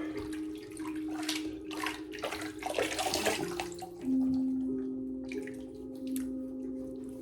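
A straight razor is rinsed in soapy water, with sloshing and splashing close by, then a steady running stream of water that continues to the end.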